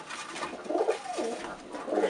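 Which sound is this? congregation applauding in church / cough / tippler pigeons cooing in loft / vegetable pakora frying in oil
tippler pigeons cooing in loft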